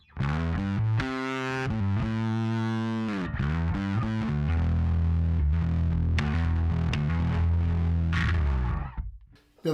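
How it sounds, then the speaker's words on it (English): Bass guitar played through a distortion pedal, giving a loud, aggressive, buzzing growl as sustained notes and slides ring for about nine seconds before cutting off. "So that distortion pedal is going to give you that cut through."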